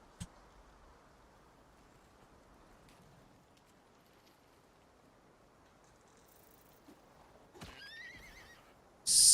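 A horse gives a loud, close whinny near the end, preceded by faint rain pattering on surfaces and a few soft hoof-like knocks in an otherwise quiet outdoor scene.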